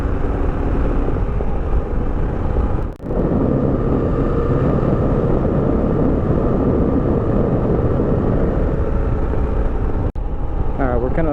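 Kawasaki KLR650 motorcycle engine pulling hard out of a turn, a steady, loud, close rumbling roar mixed with wind buffeting throughout, with a brief dip near the start and a sharp cut near the end.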